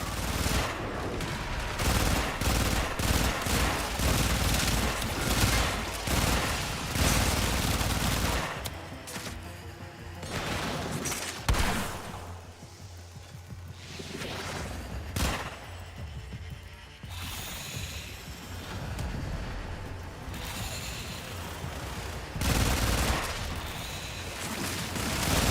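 Rapid weapon fire in the sci-fi shooter game Warframe, a dense, continuous stream of fast mechanical shots, loud and up close, thinning into sparser bursts with game effects in the middle before picking up again.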